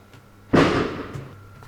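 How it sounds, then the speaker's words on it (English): A single loud firework bursts outside, a sharp crack followed by a decaying crackling rumble, with a fainter pop afterward. "those blasted fireworks"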